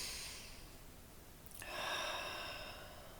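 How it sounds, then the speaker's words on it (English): Slow deep breathing during seated meditation, one soft drawn-out exhale then a fuller inhale, close and quiet with no talking. "sit cross-legged on the ground and start breathing deeply"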